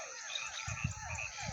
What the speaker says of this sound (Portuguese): os sapos cantando.